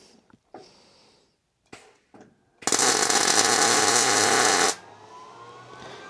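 Plug welding on a rusted car floor pan: a loud, steady crackling buzz holds for about two seconds after a few short taps and clunks, then drops to a faint hiss.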